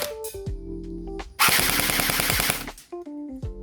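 An airsoft gun fires a full-auto burst at roughly ten rounds per second, a fast, loud, evenly spaced rattle of about a second, with quieter mechanical clicks and whirs before and after.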